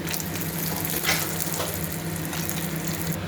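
Coriander seeds and dried red chillies frying in a pan produce a steady, close hiss and soft crackle with a faint watery texture throughout, and no speech.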